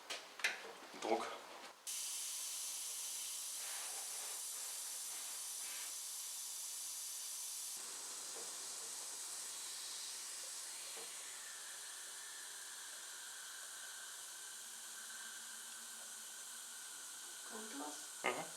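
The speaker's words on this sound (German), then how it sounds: "Jetzt geben wir die Druckluft einfach mit einem ganz normalen Adapter für Autoreifen auf den Deckel." Compressed air from an ordinary tyre adapter hisses steadily into the brake fluid reservoir cap of a Porsche 944 S2 during a brake hose replacement, a loud, sustained airy hiss running for many seconds after a few short clicks and handling noises.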